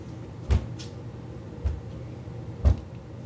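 A door bangs three times at roughly one-second intervals, each a dull thud against a steady background hiss, with no voices.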